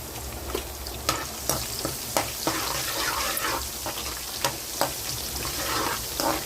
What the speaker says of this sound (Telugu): ఇలా కొంచెం కలుపుకుంటూ వేపుకోవాలి.